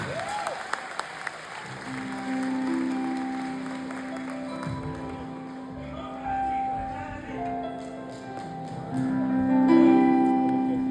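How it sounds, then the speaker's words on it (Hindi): Concert crowd in Toronto applauding over sustained musical tones and held notes, the clapping a soft wash beneath the music that swells louder near the end. "बहुत सारी तालियां होनी चाहिए"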